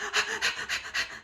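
A voice imitates shallow, anxious breathing with four quick, rhythmic breathy puffs, close and fairly loud, with no words.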